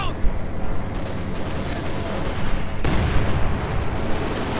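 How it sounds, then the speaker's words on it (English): Strafing run gunfire in Company of Heroes 2 rattles as a dense, sustained barrage of rapid shots and rumbling impacts, loud and continuous, swelling into a heavier burst partway through. "Strafing run sets about once more, pinning down the troops, doing what it's supposed to do."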